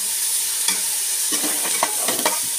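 Close sizzling of chicken in a pot for chicken sotanghon soup, with scraping, clattering stirring strokes, irregular and loud, no talking.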